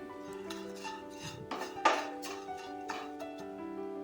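Flattened rice (aval) is dry-roasted in a metal pan, with a steady clatter of a spatula scraping and tapping the pan and one sharper clink partway through, fairly close and without talk.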